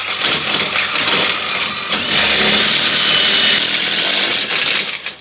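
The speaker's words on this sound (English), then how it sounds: "I'm going to attempt to drill through using only the 3/8 bit and ignoring the smaller pilot hole." A 3/8 inch drill bit bores straight through a mower tube without a pilot hole, a steady loud whirring motor grind that swells and holds through the middle and eases off near the end, with no talking.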